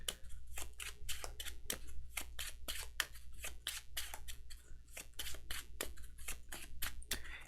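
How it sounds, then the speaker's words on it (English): Cards for the Undaunted Normandy board game being shuffled, a rapid, steady series of crisp riffling snaps repeating for several seconds, close and clear with no talking. "so I have to shuffle before we go to the next round"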